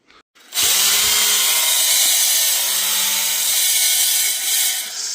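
A power drill driving a cylinder hone whirs up and runs continuously at a high, steady pitch, loud and close, with a slight grinding edge.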